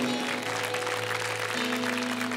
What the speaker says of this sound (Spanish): Yo quiero que lo animemos con fuertes palmas en esta noche